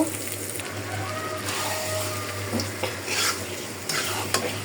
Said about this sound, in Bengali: এখন আমি কচু শাকটা দিয়ে দিব